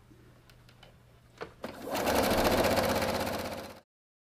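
A sewing machine stitching a quilt binding strip with a quarter-inch seam, a few soft clicks and handling taps, then a steady fast whirring run of close needle strokes for about two seconds before it stops abruptly.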